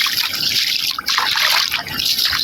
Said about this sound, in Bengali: পানি আস্তে আস্তে যাইতেছে